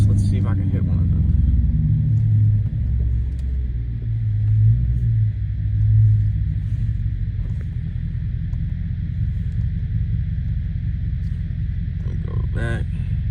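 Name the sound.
Dodge SRT8 6.4 V8 car accelerating hard, 0 to 60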